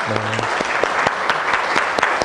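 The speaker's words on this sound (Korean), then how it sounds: "우리 어르신들에게 감사합니다라는 의미로 박수 한 번만" A room full of people clapping steadily, a dense patter of hands with some sharper individual claps standing out, sustained throughout.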